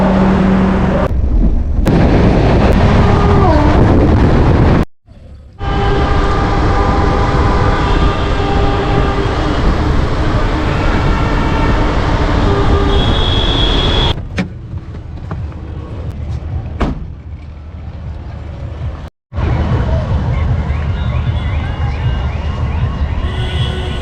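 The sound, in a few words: Kolkata-Guwahati Garib Rath Express train 12517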